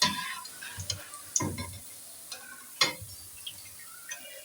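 Crispy pakoras fry in hot oil with a soft, crackling sizzle, broken by scattered louder pops and clicks at uneven intervals, close by and with no talking.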